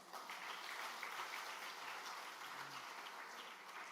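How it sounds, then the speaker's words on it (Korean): Steady applause from a congregation at a Sunday evening church service, a continuous crackle of many hands clapping, fairly soft and distant, holding evenly throughout. "박수하겠습니다"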